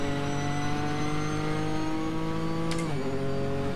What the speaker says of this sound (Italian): senti che progressione, senti. Ha un motore infinito.